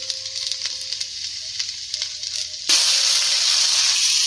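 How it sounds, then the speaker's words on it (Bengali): Pasta with soy sauce sizzling and being stirred in a pan: a low, scattered sizzle with light stirring clicks, then a loud, steady hiss bursts up as the sauce hits and holds close and strong to the end. "সয়া সস দিয়ে একটু নেড়ে নিয়েছি, এবার ঢেলে নেবো।"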